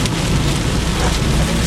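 Heavy Florida thunderstorm rain pours loud and steady, a dense continuous roar with low rumbling underneath, close by and without a break.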